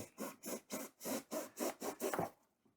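Rapid back-and-forth sawing strokes with a Canary box cutter blade cutting through stiff material, about nine rhythmic rasps close up, then stopping.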